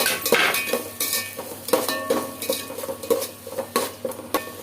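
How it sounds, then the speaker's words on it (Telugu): Onions being stirred in a hot pan: a spoon scrapes and clinks against the metal in repeated, irregular strokes over a soft background sizzle, close and fairly loud, with no talking. "ఇప్పుడు ఆనియన్స్ వేసుకోవాలి వేసుకొని కలుపుకోవాలి"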